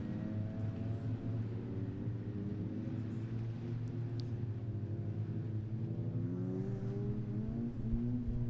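Onboard sound from a race car at an ICCR 2024 round, engine droning steadily as it accelerates up through the gears with rising pitch and brief shift dips, loud and continuous.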